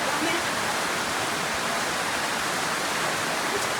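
A steady, even hiss of heavy rain pours down continuously, close and unvarying, with no other sounds standing out.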